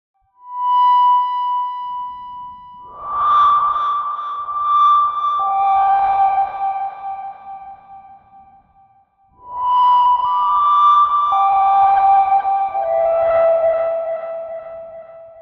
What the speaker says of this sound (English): add a bit of modulation to something like tuning, to make the pitch wobble unpredictably